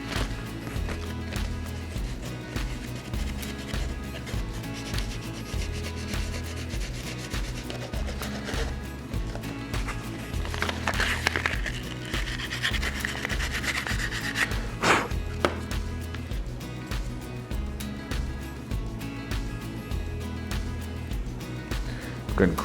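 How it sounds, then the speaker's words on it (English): Sandpaper lightly rubs a fiberglass fishing rod during a repair, giving a steady, close, rhythmic scraping that runs throughout, with no voices. "we're gonna go at this with sandpaper just real lightly because we don't wanna mess up the fiberglass at all"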